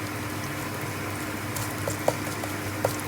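Fenugreek seeds fry in hot oil in a pan for a big crab curry, making a steady, even hiss with a few faint pops near the end and no talking.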